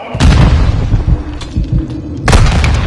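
Detonated charges in a video game: a loud, close boom with a long rumbling tail, followed a moment later by a second heavy blast.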